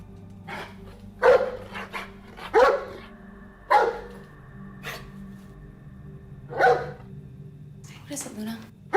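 A dog barks in sharp, separate bursts, some single and some doubled, moderately close, with quiet stretches between.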